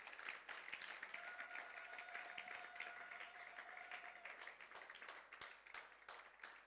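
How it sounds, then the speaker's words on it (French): Church congregation applauding at a youth workshop, a steady dense wash of clapping lasting several seconds, with a sustained tone from a voice or instrument running beneath part of it. "Applaudissons pour Jésus-Christ."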